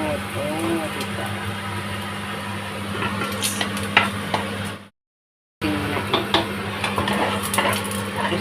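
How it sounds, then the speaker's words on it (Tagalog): Garlic and onion sauté in a pan with a steady sizzle under scraping and clinking of a utensil against the pan, with a brief dropout midway and voices talking over parts of it. "Itagisa natin yung bawang at sibuyas."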